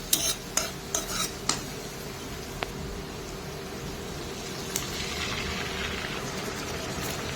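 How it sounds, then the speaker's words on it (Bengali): Ginger garlic paste hits onions frying in a pan for mutton chusta, giving off a steady hiss and sizzle, with a few sharp spoon scrapes and stirring clinks at the start and occasional later. "এরপরে দিয়ে দিচ্ছি আদা রসুন পেস্ট"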